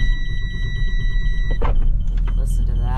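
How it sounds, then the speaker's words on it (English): The electric power windows of a Freightliner-chassis Super C motorhome whine steadily, then stop abruptly partway through, leaving a low idling rumble and faint clicks. "Power windows right here. Here's where you push them down."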